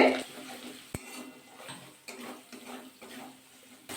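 Ground cumin being stirred into ginger-based spice in a pan while cooking cauliflower chaap, with soft scraping and clinking of a utensil against the pan, one sharper knock near the start.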